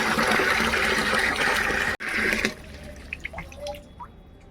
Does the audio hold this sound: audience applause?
no